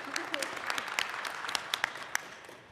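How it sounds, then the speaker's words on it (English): A small audience at a Boston game developers' lightning talk gives a short round of applause, scattered sharp claps over a soft crowd murmur, fading toward the end. "Oh, yes, let's clap."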